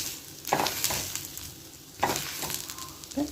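Adai dosa cooks on a hot pan, giving a soft, low sizzle with a few scraping or clinking touches from a spatula, quiet and close, with no talk.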